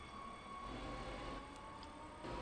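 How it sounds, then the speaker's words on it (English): A train moves in the Train Sim World Rapid Transit video game, a low continuous rumble with a faint steady tone and a few light clicks, quiet and distant, no talking. "That train's going."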